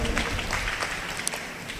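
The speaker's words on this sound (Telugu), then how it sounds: "గట్టిగా చప్పట్లు కొడదామా" Applause and clapping at a lively church healing service, a steady broadband patter sustained close by for about two seconds with no clear pauses.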